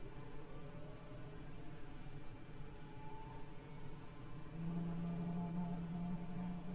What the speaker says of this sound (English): We then set engine 1 start switch to ground.